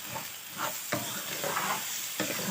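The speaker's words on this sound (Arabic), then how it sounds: "بحب ادي البصله تشويحه كده،" Onion sautés in a pan with a steady sizzle while a utensil stirs it in repeated scraping strokes, close and moderately quiet.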